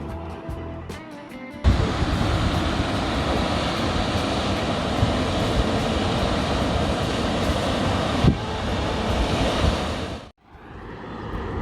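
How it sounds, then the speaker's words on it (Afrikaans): Water rushing far below the 120-metre Storms River bridge in Tsitsikamma, a steady broad roar that fills the scene for several seconds, swelling and then cutting off near the end, with no talk over it. "As jy hierbo staan en die voertuie is almal verby, dan kan jy hoor hoe loop die water hier onder."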